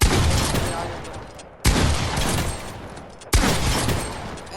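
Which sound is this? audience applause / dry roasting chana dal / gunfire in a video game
gunfire in a video game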